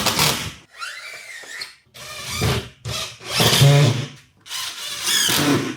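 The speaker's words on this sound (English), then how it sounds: "let's get this board screwed in." A power drill whirs in repeated bursts, pausing between runs as screws are driven into a board, loud and close with no talking.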